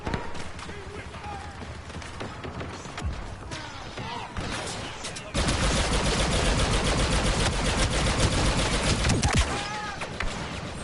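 Dense blaster gunfire in the shooter Star Wars Battlefront 2 during a multiplayer beta match, with rapid bursts and crackling volleys that grow louder and more continuous midway, while players shout over the battle.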